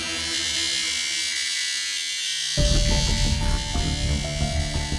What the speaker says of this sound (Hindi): ये आपका एसी इतना आवाज करता है?